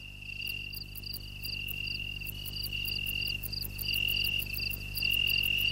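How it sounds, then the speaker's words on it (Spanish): Italian tree cricket (Oecanthus) singing a steady, high, pure trill broken into regular pulses, close and clear over a low constant background hum. "Su nombre es Oecanthus, conocido también como grillo italiano."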